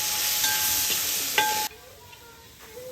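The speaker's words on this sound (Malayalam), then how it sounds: "ഇനി അതിലോട്ട് ഇഞ്ചി വെളുത്തുള്ളി ചതച്ചിട്ട് കൊടുക്കാം. അതൊന്ന് ഇളക്കി കൊടുത്ത് ഒന്ന് വഴറ്റിയെടുക്കണം." Crushed ginger and garlic sautéing in a pan for a village-style Kerala duck roast, a hiss of frying with utensil clinks and stirring scrapes, the sizzle dropping off sharply partway through.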